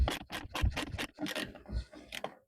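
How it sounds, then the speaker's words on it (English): A DieHard 3/8-inch 90-tooth ratchet is worked back and forth, giving quiet, close raspy clicking strokes in a fairly regular rhythm of about half a dozen pulls. No talking is heard over it. "we are testing this DieHard 3/8 ratchet"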